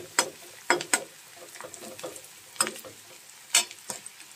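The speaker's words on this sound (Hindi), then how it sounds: "तो जब तक ये लाल नहीं हो जाता तब तक मैं इसे फ्राई करूंगी" Ingredients for Maggi noodles fry in a pan with a close, crackling sizzle, broken by several sharp spatula clacks and scrapes against the metal in an uneven rhythm.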